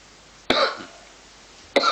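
A person coughs twice, two short sharp bursts about a second apart, close to the microphone with no talk.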